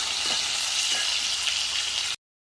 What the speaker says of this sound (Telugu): ఇప్పుడు ఈ వేడికి అల్లం వెల్లిపాయ మంచిగా మగ్గుతుంది